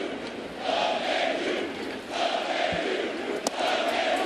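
A big crowd at Yankee Stadium cheers at a baseball game, a steady roar of voices that swells and holds, with one sharp bang standing out near the end.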